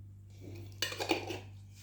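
Spoons clink against cups and dishes while coffee is prepared with thyme, a few close metallic taps and scrapes over a steady low hum, no talk.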